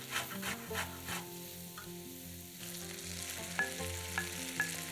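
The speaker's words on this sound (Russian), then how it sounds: "Обжариваем 1-2 минуты." Grated carrot frying in a pot with brisket and onion, a steady sizzle running throughout, with occasional stirring scrapes and light clinks close by while background music plays.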